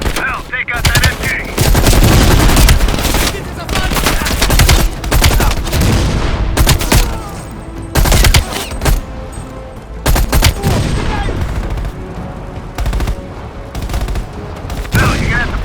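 Machine gun fire in Call of Duty: Black Ops Cold War battle, loud continuous rapid bursts with booms and chaotic combat noise throughout.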